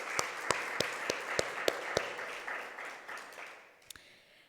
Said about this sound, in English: I think it needs an applause here.